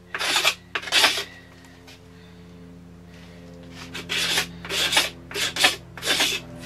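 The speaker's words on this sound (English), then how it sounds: "Using your knife blade straight on, shaving like a spoke shave." A knife blade held straight on shaves a short survival bow like a spokeshave, giving repeated dry rasping wood strokes in bursts, two quick ones, a pause, then a run of five close, fairly loud strokes with no talk.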